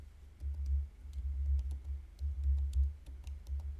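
Soft keyboard typing ticks sparsely over a steady low hum, faint and irregular clicks spaced across a few seconds, with no one speaking.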